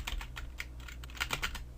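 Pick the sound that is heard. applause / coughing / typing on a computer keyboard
typing on a computer keyboard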